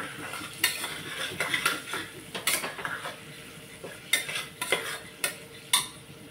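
A spoon stirs turmeric into dal frying in a pan, with repeated sharp metal scrapes and clinks against the pan over a soft sizzle.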